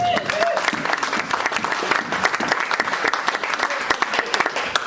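A church congregation applauds in steady, dense clapping at a worship service, a bright sustained patter filling the room for several seconds, with a voice faintly audible beneath.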